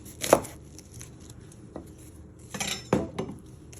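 Kitchen knife chopping an onion on a cutting board, a few sharp separate thuds and clacks with quiet gaps between them, close and alone.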